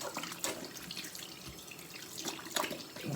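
A tap runs steadily into a sink while someone rinses their face, giving a close, soft rush of water with small splashes and drips, and no talking.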